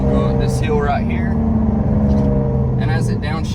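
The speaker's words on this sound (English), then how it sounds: "as it downshifts for us, like I say, it's pretty aggressive here." A supercharged Jaguar XE 35T downshifts while climbing a hill, its engine note rising in a steady, close hum heard under continuous talking throughout.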